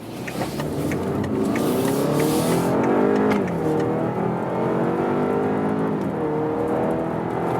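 A BMW X4 (G02) SUV engine revs hard in sport mode and accelerates through rising gear pulls to 60 mph, with a shift partway, loud and close from inside the vehicle.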